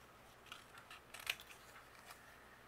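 Scissors snipping through file folder cardstock to cut out a doll shape, a series of faint, close crisp snips with a sharper cut near the middle, no talking.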